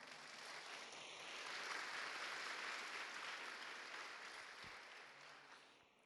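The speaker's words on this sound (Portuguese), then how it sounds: "Vamos aplaudir a palavra do Senhor?" A church congregation applauds after a sermon, a sustained wash of clapping that swells through the middle and fades toward the end, with no voices over it.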